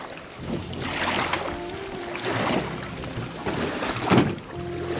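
Boat moving on the water at Tapola, with a steady low engine rumble and rushing water under gusty wind buffeting the microphone, continuous throughout.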